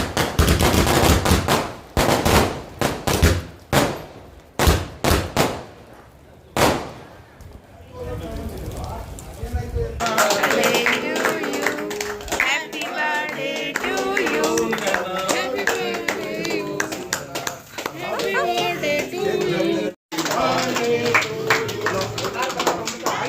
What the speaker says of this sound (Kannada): ಅದಾದಮೇಲೆ ಈಗ ಪಟಾಕಿ ಹೊಡಿತಿದ್ದೀವಿ